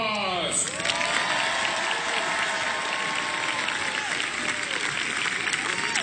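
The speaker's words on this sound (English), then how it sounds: "and applause." An outdoor crowd at the National Christmas Tree lighting breaks into sustained applause with scattered cheers and whoops, a dense steady clatter of clapping that carries on throughout.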